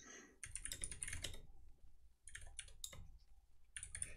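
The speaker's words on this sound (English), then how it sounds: "I hear you typing away." Rapid typing on a computer keyboard fitted with swapped switches, in dense clattering bursts separated by short pauses, fairly close and alone.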